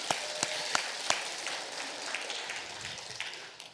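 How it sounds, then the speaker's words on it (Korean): A congregation at a fasting prayer meeting applauds, a soft, distant patter of clapping that opens with a few sharp individual claps and then thins and fades. "다시 한번 박수."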